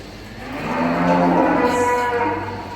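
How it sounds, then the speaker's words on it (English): Two freshly calved cows low loudly in a shed, one long swelling moo rising and fading over the middle of the stretch, close and clear with no talk. "These are my first 2 cows that I've just calved."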